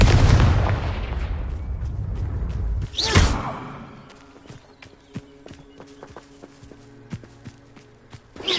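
A Confringo blasting spell goes off in the video game Hogwarts Legacy: a loud rushing burst at the start with a sharp crack near three seconds, then quieter scattered clicks and footstep-like taps.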